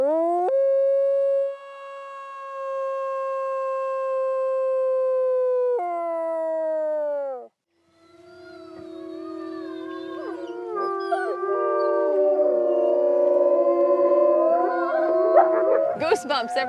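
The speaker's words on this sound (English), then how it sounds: "Can you show me your howl?" A dog gives a long, loud, steady howl, then breaks into a wavering, rising chorus of howls that builds toward the end.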